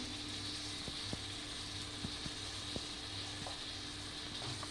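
Purslane sautéing with tomato paste, salt and spices in a pan, giving a steady low sizzle with occasional light spoon taps and scrapes as it is stirred, close and fairly quiet.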